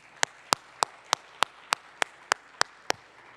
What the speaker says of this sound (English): give Anand a really big round of applause